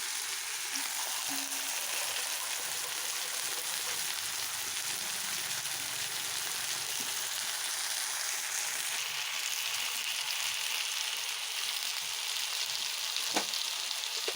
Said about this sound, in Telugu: దొండకాయల్ని కాయల పళ్ళంగా మజ్జిగ చీల్చుకొని నూనెలో వేయించుకోవాలి